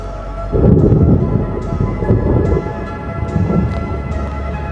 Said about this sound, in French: Il y a orage.